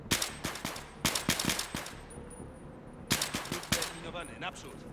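Bursts of rapid gunfire from the video game Battlefield 3, sharp repeated shots in clusters separated by brief pauses, loud and close, with a faint hum in between.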